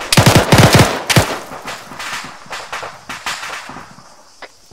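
Gunfire in the Arma military video game: a burst of rapid automatic shots up front, then scattered quieter distant shots and crackle trailing off.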